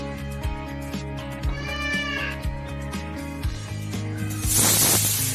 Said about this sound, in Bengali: প্রেসার কুকারে দিয়ে দিলাম। এগুলোকে এখন একটু সেদ্ধ করে নেব। 5টা সিটি দেবো আমি এখানে।